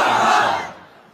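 A crowd at a religious gathering roars a brief collective shout in response to a call of takbir, loud at first and then fading quickly.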